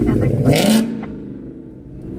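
A Ford Mustang engine revs loudly up close for about a second, then settles into a steady lower rumble, with people talking over it.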